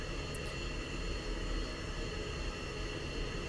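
F-16 jet engine in a flight simulator game, a steady, continuous roaring hum with an even broadband hiss, moderately loud and unbroken throughout.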